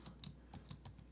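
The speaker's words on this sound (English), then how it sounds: "So I'm just going to type this in." Quick, light keystrokes on a computer keyboard tap in an irregular run, faint and close, with no talking.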